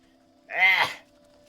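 A single goat bleats in the video game Wytchwood, one short wavering cry of about half a second, loud and close over a faint steady hum.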